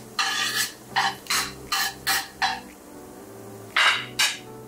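Whole spices, cumin, cardamom and cloves, frying in hot oil in a pan, with a series of rhythmic scraping strokes of a spatula stirring them, about eight evenly spaced rasps over a faint background sizzle.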